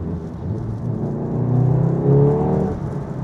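A manual Stage 2 VW Golf R MK7.5 pulls hard under acceleration, its engine note rising steadily in a smooth whirring drone that swells and climbs, then briefly dips as if on a gear change.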